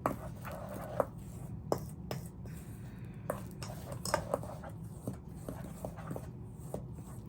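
A spoon stirring homemade artificial snow in a container gives sparse, irregular light clicks and scrapes over a soft background hum, close and fairly quiet, with no talking.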